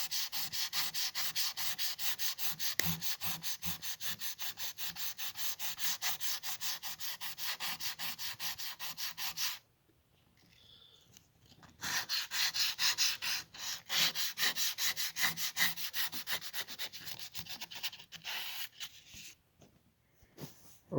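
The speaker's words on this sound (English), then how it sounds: "I sanded it off with 600 grit sandpaper" Hand-sanding clear coat off a carbon fiber part with 600 grit sandpaper: rapid rhythmic back-and-forth scratching strokes, close and steady, pausing for a couple of seconds midway and again briefly near the end.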